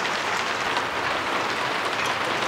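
Pea-sized hail coming down outdoors in the desert, a steady dense patter of many small hard impacts filling the whole stretch at even loudness, with no talking.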